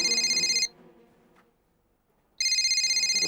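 A telephone rings loudly and close by, one electronic ring burst, then a second of near silence, then the ring starts again.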